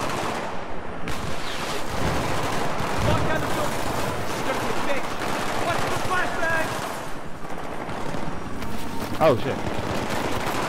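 Dense, continuous gunfire crackles in Battlefield 3 co-op play, automatic bursts and explosions layered throughout at high loudness, while players talk over it.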